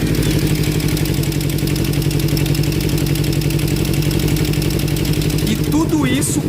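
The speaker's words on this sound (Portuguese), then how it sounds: "Olha que barulho irritante que a moto tá fazendo." Kawasaki Ninja motorcycle engine running steadily up close with a loud, even rapid clatter and buzzing drone, ending in a brief higher whine near the end.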